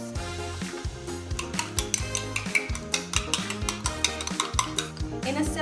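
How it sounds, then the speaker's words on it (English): Eggs being whisked in a bowl, a quick, steady run of light tapping and clinking from the whisk against the bowl. "So for that we need to whisk the eggs first."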